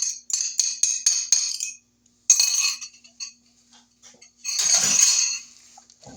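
Eggs mixed by hand into homemade turkey sausage and chicken dressing: a quick run of rhythmic clinks of a utensil against the bowl, then scattered knocks and a longer, louder stretch of scraping and stirring, close up and with no talk.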